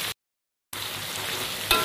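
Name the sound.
chicken pieces frying in a pan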